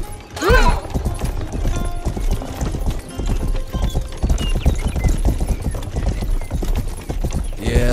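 Horse hooves clip-clop steadily in the Rustler video game, a loud, continuous trotting rhythm with a brief whinny near the start and game sounds mixed in.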